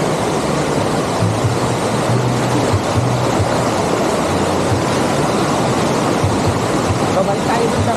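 River current at a waterfall resort on a farm: a dense, constant rushing roar of flowing water, loud and close, with no breaks.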